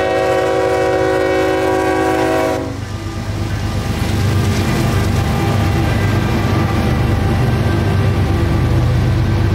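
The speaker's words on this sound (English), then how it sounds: "Q452, the daily mixed freight out of Miami bound for Waycross, Georgia." CSX Q452 mixed freight from Miami to Waycross, Georgia, passing close at Lakeland Junction: a long loud horn blast over diesel rumble, cut off as the train thunders by with continuous wheel and car noise.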